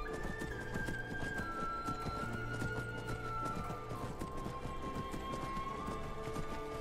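Rapid rhythmic hoofbeats of a galloping horse with a whinny in Skyrim, steady and continuous, over a faint game music tone.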